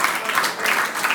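A short burst of applause for a singer on a stage talk show, moderately loud clapping from a small audience with no talk over it.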